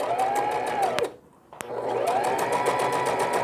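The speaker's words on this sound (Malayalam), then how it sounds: "ടോപ്പ് ലോങ് സ്റ്റിച്ചിട്ട് പ്ലീറ്റ്സ് ഇട്ട് വെക്കണം." A sewing machine stitches pleats on a baby frock with a rapid, close mechanical chatter. The stitching stops briefly midway, with a couple of clicks, then resumes at full speed.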